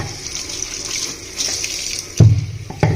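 Tap water runs steadily into a kitchen sink while raw chicken is washed, a continuous hissing splash with a couple of sharper knocks and splashes near the end. No one speaks.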